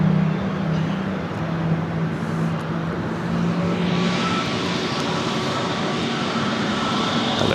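Delta Airbus A321neo taking off from LAX, a broad sustained jet engine roar building steadily at a distance, with a rising hiss as the aircraft powers up.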